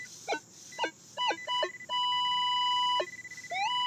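Electronic beeps from a metal detector at an old campsite, first a few short chirps, then a long steady two-tone beep lasting about a second, a brief pulsing break, and another rising tone.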